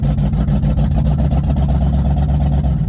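A Ford Mustang with a misfiring engine, driven without warm-up after transmission trouble, gives a loud, close, uneven low rumble with rapid rhythmic pulsing throughout.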